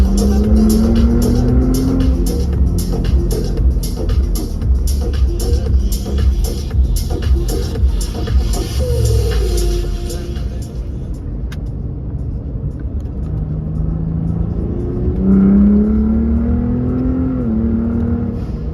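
A Ford Raptor truck engine drones loudly up close on a backroad, revving and rising in pitch several times with wind noise, easing off before one more climb.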